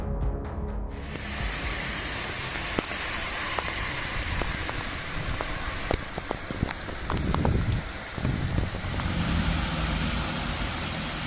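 Heavy rain pours down in Scotland during Storm Babet, a dense, continuous hiss of water with scattered splashes and knocks throughout.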